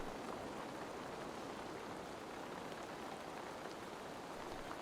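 Steady rain in a video game, a soft, continuous hiss of falling drops with no breaks, quiet and even throughout with no talking.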